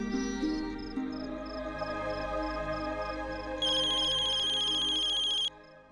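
A telephone rings with an incoming call, a repeating electronic ringtone pattern that jumps to a louder, brighter ring partway through before cutting off; faint background music underneath, no talking.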